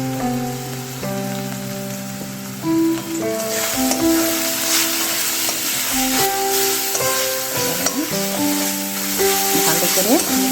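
Cumin powder, coriander powder and other spices sizzle in a hot pan while being stirred for mutton kasha, a loud, continuous crackling fry under background music with occasional scraping.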